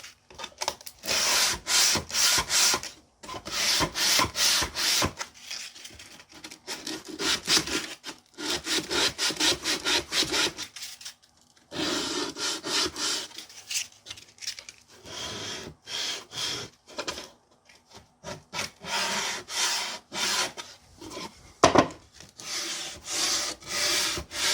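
Sandpaper is rubbed by hand over a wooden jewelry box in quick, close, rhythmic back-and-forth strokes, in bursts separated by short pauses.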